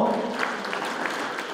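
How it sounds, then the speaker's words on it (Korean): Audience applauding at an anti-corruption association president's inauguration ceremony in Daejeon, a steady, dense wash of clapping that carries evenly through the short moment. "박수 한번 보내 주시고요"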